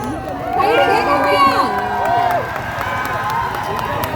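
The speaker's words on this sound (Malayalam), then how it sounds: "നിങ്ങൾക്ക് വേണം ഒരു കൈയടി" A huge crowd of fans, waiting in the rain at a Chiyaan Vikram event, roars with loud overlapping cheers, shouts and whoops that swell, then settle into a lower excited clamour.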